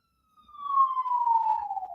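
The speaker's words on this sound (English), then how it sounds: "Wait for the siren." A single siren wail sweeps slowly downward in pitch, rising in after a brief silence and holding steady and fairly loud to the end, with no talk over it.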